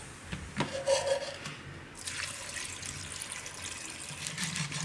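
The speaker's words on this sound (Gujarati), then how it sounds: "તો એમાં આપણે હવે પાણી નાખીશું." Water pours from a vessel into a pressure cooker holding chopped drumsticks for soup, a steady splashing rush starting after a few handling knocks and continuing evenly, close and moderately loud.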